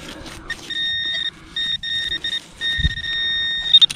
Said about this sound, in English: I believe that's how the half reals beep on this machine